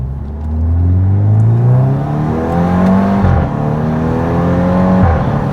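A 2014 VW Scirocco R pulls hard with rising engine tone, the DSG gearbox snapping through quick upshifts in a repeated climb-and-drop pattern, loud and close from inside the cabin.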